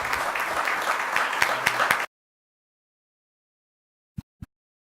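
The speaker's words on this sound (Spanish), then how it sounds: "Lo recibimos con un aplauso, por favor." An audience at a university law-faculty panel applauds to welcome a speaker, a brief burst of steady clapping that cuts off abruptly into silence, followed by two faint thumps.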